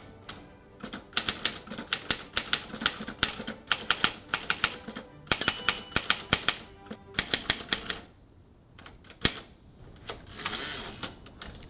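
Manual typewriter with sharp-edged plastic keys: rapid bursts of crisp, close key strikes in uneven runs separated by short pauses, with a carriage bell ding and a return near the end.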